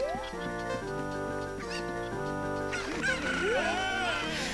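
Cuccos, the chickens of Zelda: Ocarina of Time on Lon Lon Ranch, cluck and squawk in a short video-game effect that rises over looping game music, the bird calls sweeping and warbling near the end.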